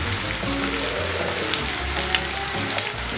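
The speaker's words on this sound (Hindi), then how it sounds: "जब हम फ्राई करेंगे तो हम अपनी आंच तेज़ रखेंगे।" Mutton fries on high heat in a pan, making a loud, steady, close sizzle with small crackles and pops throughout.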